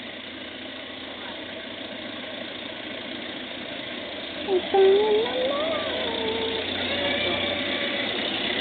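A car engine idles steadily at close range, a low continuous rumble running throughout, with a brief voice speaking over it partway through.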